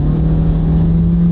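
A car with a CVT transmission revs high as it accelerates hard in passing gear at around 45 mph, a steady droning engine note heard from inside the cabin with no talk.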